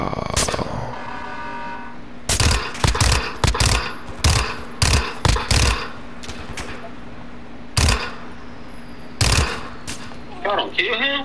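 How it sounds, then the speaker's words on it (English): Bursts of fully automatic fire from a Vector submachine gun in Call of Duty: Modern Warfare II, several loud rapid strings separated by pauses, with players talking over a steady low hum. "I'm over here shooting a damn vector."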